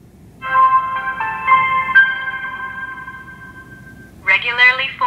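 Electronic alert chimes from a dash cam mounted in a Toyota Tacoma: a short series of bright beeping tones followed by a brief burst of higher chiming, heard over faint background noise.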